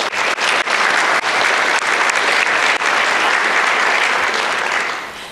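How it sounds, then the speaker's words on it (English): An audience at an awards event claps for the winners, a dense, even burst of applause close by that continues for about five seconds before tapering off. "So another round of applause for them"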